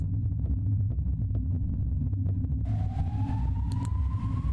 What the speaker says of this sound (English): Is that an ambulance siren?